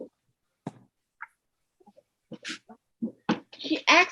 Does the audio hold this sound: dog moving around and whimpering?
yes